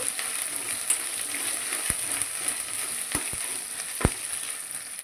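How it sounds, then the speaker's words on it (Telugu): Onions frying in a pan for a blood fry dish, a continuous close sizzle with a few sharp taps and clicks of a utensil against the pan. "ఇలా 1 నిమిషం పాటు మాడిపోకుండా ఫ్రై చేసుకోవాలన్నమాట."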